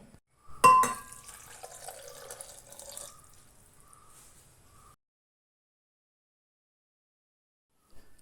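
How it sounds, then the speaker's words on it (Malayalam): Water pours into a mixer jar of grated coconut, a faint splash and trickle lasting a few seconds before fading into silence. "തേങ്ങ ഇതിന് 2 കപ്പ് വെള്ളം ഒഴിച്ചിട്ട് നമ്മൾ മിക്സിയിൽ അടിച്ചെടുക്കുകയാണ്"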